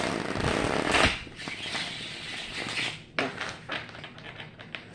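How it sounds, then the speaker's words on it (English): Deck of tarot cards given one vigorous shuffle close up, a dense riffling rush that peaks then breaks into a few sharp snaps and taps as the cards settle. "I'm going to give these one good shuffle. So watch your ears if you're wearing headphones."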